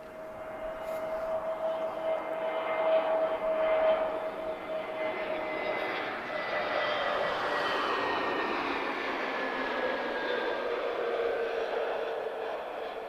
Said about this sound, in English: TP557, this is an A320neo. She's arriving from Munich.